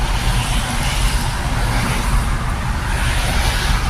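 Road traffic in Meycauayan, a dense, continuous low rumble of cars and trucks, loud and close, with steady engine drone and no talk.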